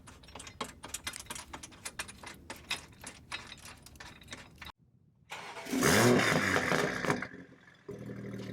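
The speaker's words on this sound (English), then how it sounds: "Car is running behind the scenes." Clicking and tapping sounds lead into a Toyota A90 Supra engine with an MST intake cranking and catching on a cold start, then it settles into a steady idle.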